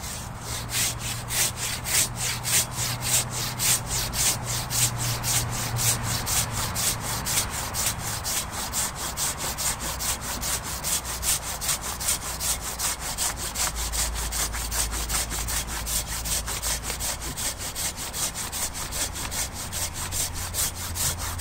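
A Silky Katanaboy 500 mm hand saw cuts through a log outdoors. Its rhythmic strokes rasp steadily back and forth, close and continuous, with no speech.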